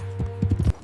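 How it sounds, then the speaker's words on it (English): Horse hooves galloping at night, a quick run of several heavy thuds in an irregular rhythm over a low steady hum, close and fairly loud within a fraction of a second. "On horseback, he leaps over the plantation fence."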